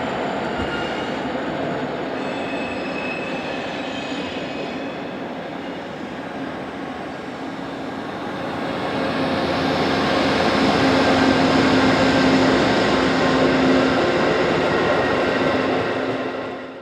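Amtrak's westbound Cardinal passenger train, running from New York City toward Chicago, rolls past Yard Center on the Joint Line with a steady rumble and rail clatter that grows louder and nearer midway through, then holds strong to the end.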